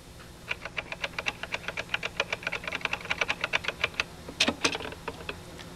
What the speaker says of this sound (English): Now I can simply type new characters and they will be inserted at the cursor.